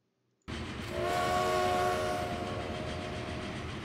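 A train in the video game Transport Fever starts up abruptly after a moment of silence, a loud horn-like whistle tone sounding over a steady rumbling roll of wagons that continues evenly to the end.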